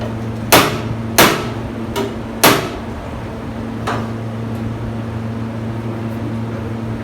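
A hammer strikes a dolly held behind an auto body panel: four sharp metallic blows in an uneven rhythm, then a fainter fifth, over a steady low hum.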